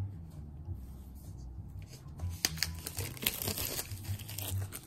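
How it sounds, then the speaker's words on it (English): A new Apple Pencil freed from its packaging: close crinkling of plastic and paper, sharp tearing bursts and rustling handling at varying loudness, with no speech. "I thought I would go ahead and also open up the new Apple Pencil."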